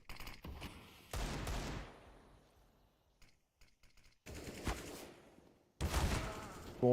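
Gunfire from the video game CS:GO during a match comes in several separate bursts of rapid shots with quiet gaps between them, fairly faint overall.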